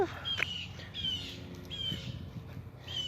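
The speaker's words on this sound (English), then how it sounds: "Hear the birds squawking." Birds squawk and chirp outdoors in a Minnesota vegetable garden, a few short calls rising over rustling background noise, fairly faint and at a moderate distance.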